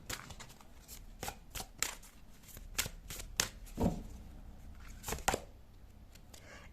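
Tarot cards are shuffled in quick, soft riffles and taps, a run of crisp papery flicks in an irregular rhythm, close and fairly quiet.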